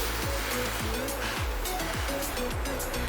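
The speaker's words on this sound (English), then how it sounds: "I'm just gonna spray water all over to keep the soil wet" Water is sprayed over a kokedama soil ball wrapped in coco peat, making a steady, close hiss. Faint tonal background music plays under the spray.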